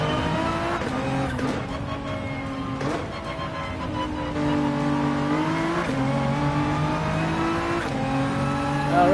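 Race car engine in Gran Turismo 7 revving hard through the gears, with a steady high whine that rises and drops at each shift and faint tire squeal, loud and continuous.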